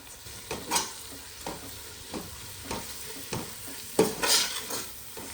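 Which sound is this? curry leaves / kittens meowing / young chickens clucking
curry leaves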